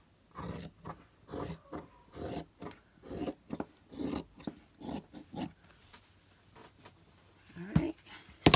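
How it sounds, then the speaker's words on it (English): Scissors cut through uneven cotton batting for a homemade iron press board in a rhythmic series of soft, close rasping snips, about a dozen strokes with brief pauses, ending in a couple of sharper clicks. "since my batting is uneven, I wanna go and cut it a little bit even,"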